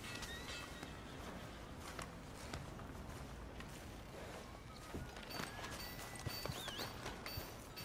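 A horse's hooves clip-clop at a walking pace on a dirt street in Red Dead Redemption 2, soft and fairly close, with town ambience and a bird chirping faintly in the background.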